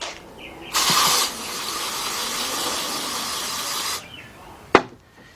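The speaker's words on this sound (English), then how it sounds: "Take me some carburetor cleaner." Carburetor cleaner sprays onto parts from a 2003 Jeep Liberty Sport's 3.7 engine under partial rebuild, a loud, close, continuous hiss lasting about three seconds, followed by a sharp clunk.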